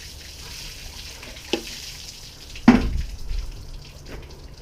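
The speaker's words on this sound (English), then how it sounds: "Let's rinse that off." Water splashes and runs over a piece of stained glass as the patina is rinsed off, a soft running flow broken by two sharper splashes, close and moderately quiet.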